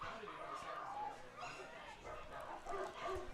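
Dogs bark on a minor-league baseball ballpark soundtrack during a Lincoln Potters versus Walnut Creek Crawdads game. The barks come faint and muffled within dense, continuous stadium noise.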